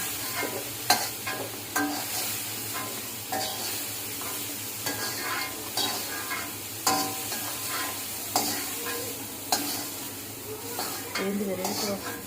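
Mushrooms sizzle in a pan of oil while a spoon stirs them, giving steady frying hiss with repeated scraping and clinking strokes against the pan.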